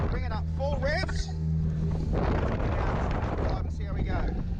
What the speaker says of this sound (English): Bring it up full revs.